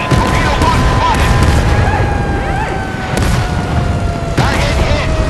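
Naval ship guns fire in the Force of Warships video game on a polar map, a dense, continuous booming barrage with rumbling blasts and tonal game effects, loud throughout.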